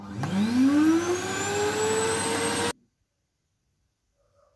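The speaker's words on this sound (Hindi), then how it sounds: "ये हमारा वैक्यूम क्लीनर है जो बिल्कुल ओके हो चुका है" Repaired household vacuum cleaner running with a loud, steady whine whose pitch climbs as the motor spins up, holding for under three seconds before cutting off abruptly into near silence.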